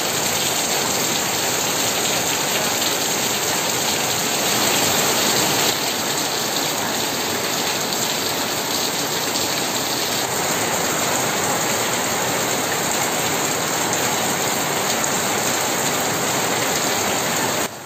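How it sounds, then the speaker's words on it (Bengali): Heavy monsoon downpour in a Bangladeshi village pours onto a roof in a dense, continuous roar that holds steady and loud throughout, with no voices. "এত সুন্দর বৃষ্টি হচ্ছে"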